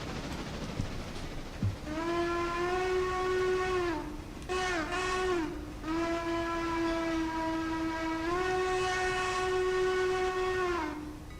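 A locomotive in the train game Railroads Online sounds a long, steady steam-style whistle over rolling rail noise, breaking into short pulsing toots midway before resuming the sustained tone.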